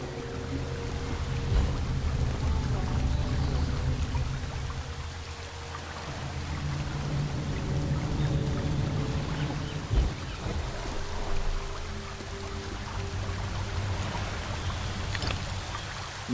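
Steady rushing water from a waterfall in the video game Alice: Madness Returns, a continuous broadband wash with low rumble, fairly loud and constant throughout, with no talking.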